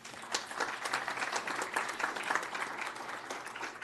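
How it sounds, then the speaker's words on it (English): Audience applause at a state legislative session, steady dense clapping from a crowd that continues evenly throughout. "Let's give these individuals a round of applause."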